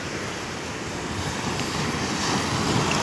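Steady wash of sea waves at a roadside beach a few kilometres past Kundapur, a broad continuous roar mixed with wind, swelling slightly louder toward the end, with no voices.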